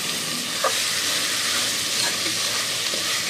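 Spices sautéing in hot oil before chili powder goes in, a steady broad sizzle and hiss with a few faint stirring clinks, continuous and close.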